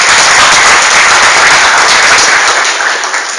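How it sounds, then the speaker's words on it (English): An audience at a public address claps in a loud, dense, sustained burst of applause that fades slightly toward the end. "please acknowledge them and give them a round of applause."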